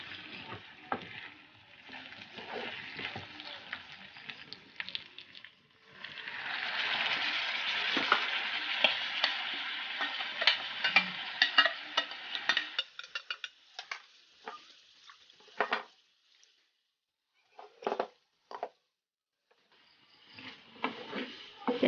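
A spoon stirs chicken, potatoes and curry leaves in a pan for an Assamese chicken curry. The steady sizzle of frying runs beneath scraping strokes and clinks against the pan, with short pauses between bursts of stirring.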